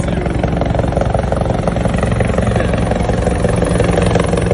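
A helicopter flies over Abuja during a street protest, producing a loud, continuous rotor and engine roar that holds steady throughout, with no speech.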